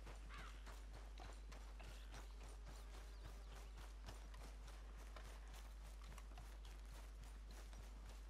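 Horse hooves clip-clop steadily in Red Dead Redemption 2 as a horse draws near, a fast rhythmic run of hoofbeats over a constant game soundscape, with no talk.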